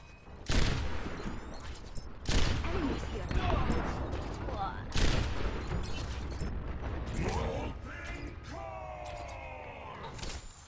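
Gunfire bursts and mechanical clanks from an enemy turret in Overwatch played on PC, several loud sharp volleys spaced a couple of seconds apart, with creaking mechanisms and game effects between them.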